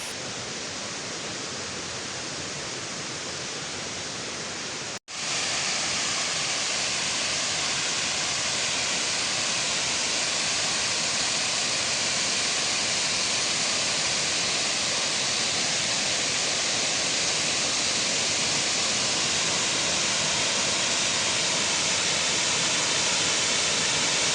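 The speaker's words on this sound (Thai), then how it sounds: "เดี๋ยวเราไปรับชมกันนะครับ กับความงดงามของน้ำตกห้วยสายเหลืองนะครับ" Huai Sai Lueang waterfall in Thailand roaring as a steady, dense wash of falling water, loud and continuous after a brief cut early on, with no voices.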